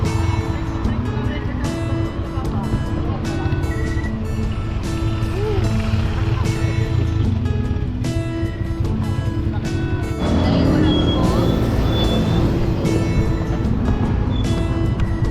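Road traffic passing near a family on a trip in Tagaytay, a steady rumbling stream of car noise with a louder swell toward the end, under music and talking voices.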